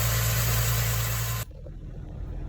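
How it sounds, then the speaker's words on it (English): A 2006 Ford Mustang 4.0 engine idles just after an oil change, a loud steady hum close to the microphone that cuts off abruptly partway through, leaving quieter background noise. "We're gonna start the engine."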